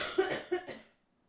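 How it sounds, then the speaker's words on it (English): A few sharp coughs from a sick man, close and fairly loud, grouped in a short burst of about three bursts that fade out into quiet. "I'm going to cough."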